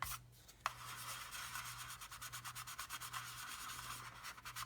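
Rapid rhythmic rasping of a sanding stick rubbed back and forth on plastic, quiet and close, with a steady low hum underneath.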